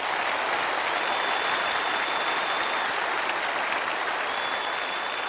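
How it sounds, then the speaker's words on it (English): A large audience at a motivational talk claps in a dense, uniform roar that holds steady and loud without a break, heard alone with no voices over it. "Give yourself a round of applause."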